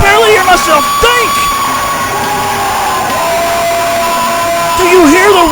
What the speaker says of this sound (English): Do you hear the roar of this crowd?